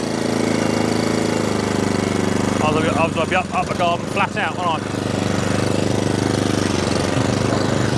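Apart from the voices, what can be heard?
petrol cylinder lawnmower engine running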